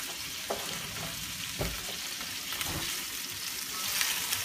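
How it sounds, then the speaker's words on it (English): A plain chicken breast seasoned with salt and pepper sizzles steadily in hot oil in a pan, a close and continuous crackle with a few soft clinks and stirring sounds and no talking. "Plain, basic, straightforward breast, salt and pepper, into the hot oil."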